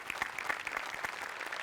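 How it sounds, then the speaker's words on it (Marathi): Studio audience applauding the art department's farm set at a comedy show, a brief steady burst of clapping, fairly soft, with no talk over it. "आर्ट डिपार्टमेंटला पण टाळ्या"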